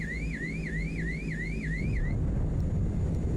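A warbling angle-of-attack warning alarm repeats its rising, sweeping tone about six times in a CL-415 water bomber cockpit in Microsoft Flight Simulator 2024, over a steady engine drone, then stops while the engine hum continues.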